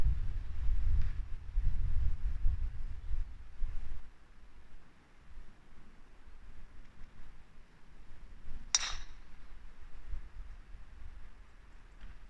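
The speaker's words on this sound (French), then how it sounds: "aujourd'hui il y a beaucoup de vent droite-gauche" Strong wind buffets the microphone at an outdoor golf practice range, a low rumbling gusty roar strongest early on, then easing to a steadier bluster, with a brief sharp click partway through.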